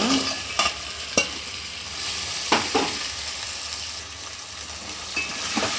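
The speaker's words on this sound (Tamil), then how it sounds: "ஆட் பண்ணி எல்லாத்தையும் இப்படி நல்லா கிண்டி விட்டுக்கலாம்." Crab being stirred into sizzling tomato masala for a crab curry, with steady frying hiss broken by several sharp scraping clatters of the spoon against the pan, close and alone.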